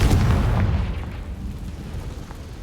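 A fire-blast Confringo spell in Hogwarts Legacy bursts with a deep, rumbling boom that starts loud and slowly decays into a lingering roar, with no voice over it.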